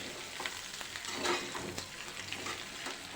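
Fenugreek muthiya being tempered in a hot pan sizzle and crackle softly, with faint scraping stirs and small spattering bursts throughout, no voices.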